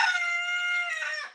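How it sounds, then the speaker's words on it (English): A rooster crows once, a loud, close, sustained cock-a-doodle-doo that holds steady and then breaks off with a falling end. "when you hear the chime and chicken this morning"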